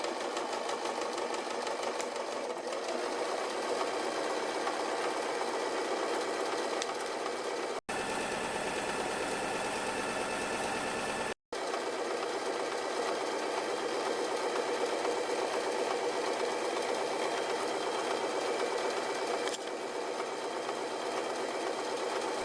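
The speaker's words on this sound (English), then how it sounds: "Start stitching with back stitch. It will secure your seam. Try to sew on marked stitching line." A sewing machine stitches a seam on a tailor's ham cover in a steady, fast, whirring run that continues throughout, with two brief pauses near the middle.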